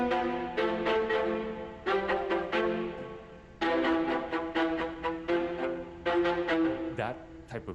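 Virtual violas from a sample library play a run of short, detached attacks in quick rhythmic bursts, clear and close, with brief pauses between phrases and no talking.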